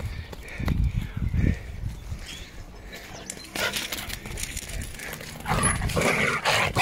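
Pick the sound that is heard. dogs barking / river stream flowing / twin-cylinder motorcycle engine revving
dogs barking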